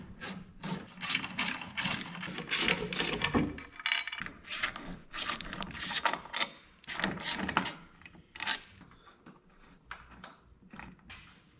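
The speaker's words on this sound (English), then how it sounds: "we'll take a 6mm Allen and loosen up these" A 6mm Allen key loosens bolts on a BMW K1200 motorcycle, giving a string of short scraping, ratcheting clicks in uneven rhythm, close and moderately quiet with no talk.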